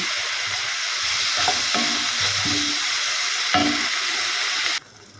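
Mushrooms seasoned with salt and black pepper sizzle loudly and continuously in a pan while a utensil scrapes and knocks against it a few times, before the frying cuts off abruptly near the end.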